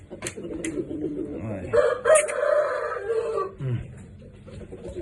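A rooster crows loudly close by, with brief clucking and other fowl noises around it.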